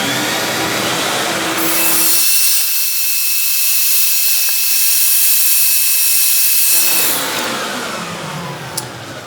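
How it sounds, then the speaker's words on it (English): A dust extractor drones loudly throughout while sanding on a large wooden salad bowl on a lathe rasps steadily for several seconds, then fades as the machine winds down. "So let's fire up the extractor and we'll do some sanding."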